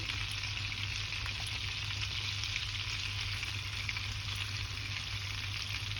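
Garlic spooned into a pan of hot olive oil and a cube of butter sizzles and fries in a steady, close, continuous hiss with no voices over it.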